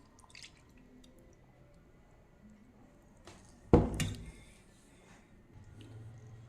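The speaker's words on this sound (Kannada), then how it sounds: "ಸುಮಾರು 1 ಕಪ್ಪಷ್ಟು ಕಾದಾರಿಸಿರೋ ಅಂಥ ಹಾಲು ಹಾಕ್ಕೊಳ್ತೀನಿ." About a cup of boiled and cooled milk is poured for milk peda, making a single short, close splash of liquid after a quiet stretch. Faint drips and small kitchen clinks follow.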